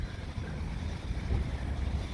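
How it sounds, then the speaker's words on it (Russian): Wind gusts outdoors beside a garden center, a steady roaring buffet of noise across the microphone with no other sounds standing out. "у нас ветер поднялся"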